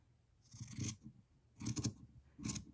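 Fabric cut with scissors for a gnome Christmas ornament hat, three short crisp snipping passes in close succession, near and quiet with no talk.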